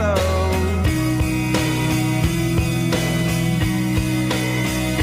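A song plays loudly on a radio broadcast, a steady band groove with sustained chords and a regular beat running throughout.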